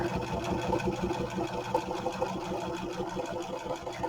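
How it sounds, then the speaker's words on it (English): A sewing machine stitches around the cover of a handmade French envelope mini journal, its steady rapid mechanical whir running continuously and fairly loud, with no talking. "stitching on with the outside of the cover up, I'm going to just do my stitching around the rest of the cover"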